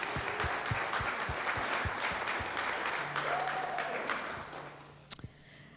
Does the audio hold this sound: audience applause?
yes